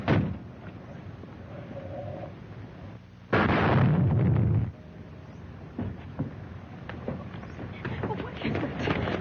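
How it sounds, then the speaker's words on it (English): A car motor explodes in a film sound effect, a sudden loud, deep roaring blast lasting over a second, followed by scattered crackling and rumbling debris. "The motor exploded."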